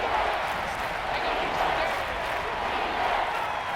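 Stadium crowd noise from a simulated Madden 21 NFL game between the Los Angeles Rams and Miami Dolphins. It is a steady, dense roar that holds at an even level throughout with no distinct peaks.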